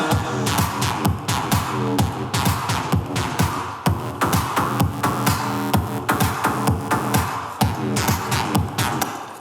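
Dry synth preset with no processing chain, playing a dense rhythmic pattern of punchy, pulsing hits in a steady groove, loud and continuous with no voices.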